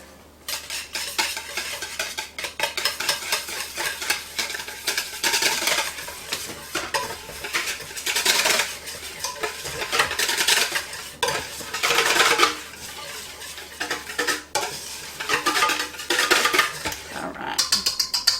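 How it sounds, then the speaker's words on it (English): Dijon mustard dressing whisked briskly in a bowl, continuous rapid scraping and clinking of the whisk against the sides, close and steady with no talking. "we are going to whisk that together until it makes a dressing"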